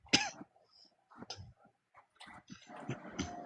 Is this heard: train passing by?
no